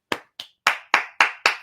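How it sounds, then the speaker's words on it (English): Six sharp, close hand claps: two quick ones, a short gap, then four evenly spaced claps, each crisp and dry with no talking around them. "Cleo, that was not a clap for you to come over here"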